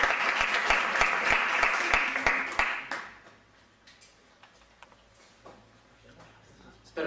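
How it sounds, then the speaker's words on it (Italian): An audience at a modern singing concert at an academy claps for a singer in a dense, loud burst of applause lasting about three seconds. It then fades to scattered faint ticks and a quiet room before a sudden noise at the end. "Un applauso a Giuseppe Bencivente."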